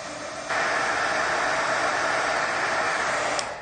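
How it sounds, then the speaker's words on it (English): A heat tool heat-sets paint on a stamped card. Its steady, close blowing roar starts after about half a second and runs evenly to the end, with no talking. "I'm going to bring my heat tool in again, and I'm going to just heat set this paint"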